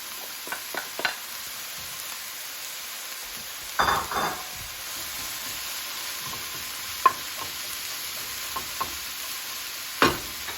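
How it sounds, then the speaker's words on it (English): Cabbage going into a pan of sizzling onions, a steady low frying hiss broken by scattered clinks and scrapes of stirring, with louder bursts near the start, the middle and the end. "Now add cabbage."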